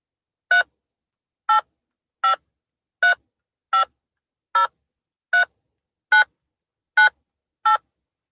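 A phone keypad sends DTMF tones while a 10-digit number is entered: ten short, evenly spaced beeps, clear and close, with silence between each press.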